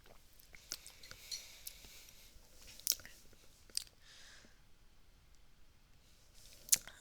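Quiet sips and swallows of huckleberry soda from a bottle, with soft mouth clicks and a few sharper ticks spread across several seconds in a hushed room.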